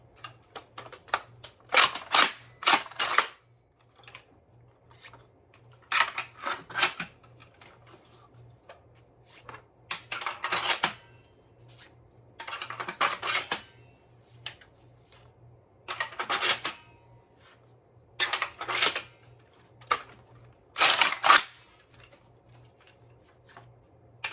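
A 3D-printed Nerf Breacher toy shotgun fires Mega shells in repeated clusters of sharp clacking shots and pump-action rattles, separated by short quiet pauses, fairly close and moderately loud.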